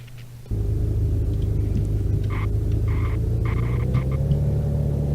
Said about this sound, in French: je sais pas si le volume c'est trop fort quand j'allume la voiture